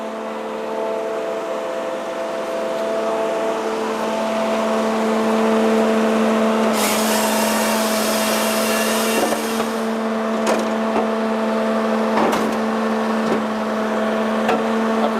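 A log splitter runs steadily in a woodyard, a constant motor hum with a strong mechanical drone and occasional clunks and surges, heard close with no talk.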